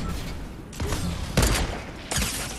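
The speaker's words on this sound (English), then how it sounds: "Oh, I sniped that dude again." Sniper rifle shots in a PS5 multiplayer shooter: three or four loud, sharp cracks spaced under a second apart, each with a brief booming tail over steady game background noise.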